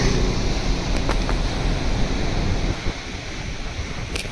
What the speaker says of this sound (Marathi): लाटा बघा केवढे येतात ते.